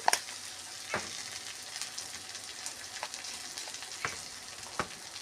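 Gima greens fry in a pan with turmeric and cumin powder, a continuous crackling sizzle punctuated by a few sharp spatters and stirring taps, close and without speech.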